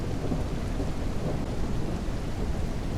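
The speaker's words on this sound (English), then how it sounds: "Rain." Heavy rain pours with a low rumble of thunder throughout in the video game Detective - Rainy Night, a dense, steady wash of storm sound with no voices.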